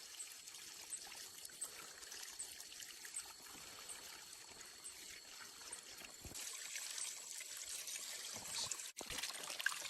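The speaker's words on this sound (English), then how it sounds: "Vigorous scrubbing under the flowing tap ensures the larger fruits are free of grit." Water flows steadily from a bamboo pipe tap outdoors in the jungle, a soft, continuous trickle that grows slightly louder near the end, with a brief knock partway through.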